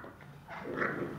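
A Shar Pei puppy growls in low, rumbling bursts while playing, rising in intensity, sounding playful rather than threatening, close by.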